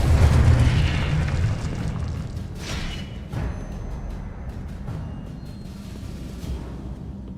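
Confringo blasting spell explosion in a Harry Potter video game: a deep, rumbling boom that opens loud and fades into a long, rolling decay.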